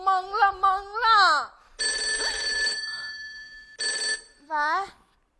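A telephone rings in a stage comedy sketch, two long electronic bell-like rings spaced apart, loud and close, with lively speech before and between them.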